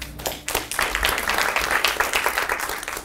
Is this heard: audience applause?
yes